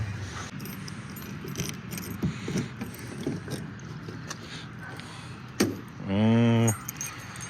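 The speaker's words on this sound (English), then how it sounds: "let's go grab the keys, pop the trunk, see what's in the trunk" Car keys jangle and clink in a few short bursts near a car that has sat for almost 20 years, with a low background hum and a brief tonal buzz near the end.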